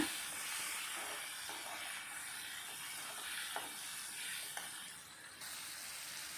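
A steady, soft sizzle of tomatoes and chilies sautéing in a pan, a continuous hiss with a few faint clicks.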